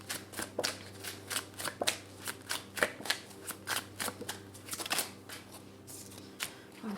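Tarot cards are shuffled and drawn during a love reading, a rapid run of close, crisp riffling flicks and slaps in quick irregular bursts over a faint low hum.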